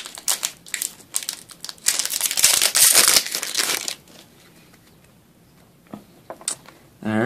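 Pokemon card booster packs are torn open by hand, giving loud crinkling, crushing foil wrapper noise in a dense burst, then quieter rustling and small handling clicks close to the mic.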